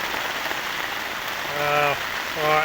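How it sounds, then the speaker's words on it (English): Rain patters steadily on a tent at a campsite, a constant soft hiss of drops close by, with two brief tonal voice sounds rising over it near the end. "rain eases off a little bit,"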